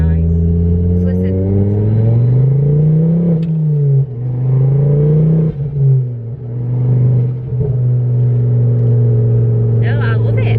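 Modified Ford Focus ST engine pulling hard under boost, a loud rising and falling drone as revs climb and drop through gear changes, heard from inside the car with occasional voices.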